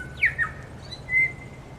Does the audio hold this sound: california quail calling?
yes